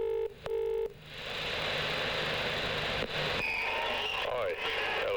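A telephone number is dialed on a keypad, giving a short burst of paired beeping tones at the start, followed by a steady hissy line noise.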